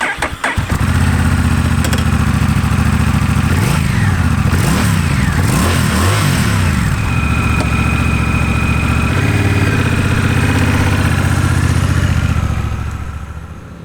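A Honda Rebel 1100 cruiser motorcycle engine fires up and settles into a steady, loud idle, with a few quick revs rising and falling, heard up close without any talking.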